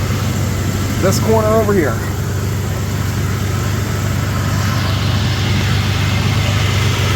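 A 1999 Ford Explorer 4.0 4x4 engine idles with a steady, even low hum throughout, while someone speaks briefly near the start.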